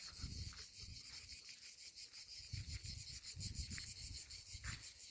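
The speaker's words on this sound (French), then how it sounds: "Des cigales." Cicadas shrill steadily in the Estérel hills, a dense continuous buzzing chorus heard alone at a moderate distance, with low rustling gusts underneath.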